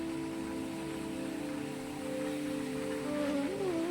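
Rain falling on green leaves and flowers at an eco village, a steady, even hiss of drops throughout, with a faint tonal hum underneath.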